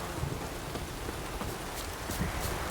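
Storm rain in The Witcher 3 pours steadily in a dense, hissing wash with scattered drops and a faint low rumble underneath, even and unbroken, with nobody talking.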